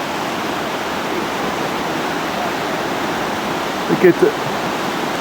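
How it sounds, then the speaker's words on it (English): A fast-running stretch of the Salmon River rushes in a dense, steady roar that fills the whole scene without letting up, with a short burst of speech near the end. "The river just runs so fast that it's just awesome."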